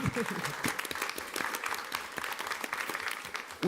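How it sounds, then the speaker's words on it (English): A round of applause breaks out at a school district board meeting, a moderate burst of many hands clapping steadily before fading, with a voice briefly over it at the close. "give her a round of applause"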